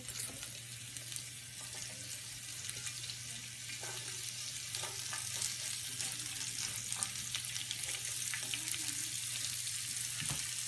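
Chopped onions added to a pan while cooking chicken chili kebab, a steady soft sizzle of frying with occasional light clicks and stirring, fairly quiet over a constant low hum.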